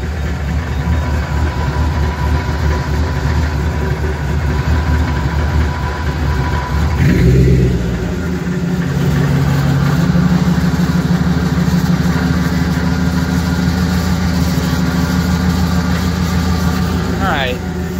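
A Ford Mustang engine runs steadily with a possible transmission problem, a close, continuous low hum that shifts and dips partway through as it seems to adjust, with someone talking over it.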